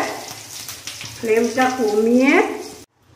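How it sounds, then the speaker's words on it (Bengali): White cumin seeds and dried red chillies dropped into hot oil, giving a loud, sudden sizzle that swells for about a second and a half, then cuts off abruptly. "আর এই একটু সাদা জিরে ফোড়ন দিয়ে দিলাম"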